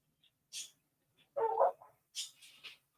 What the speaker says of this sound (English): Apologies for the dog bark in the background.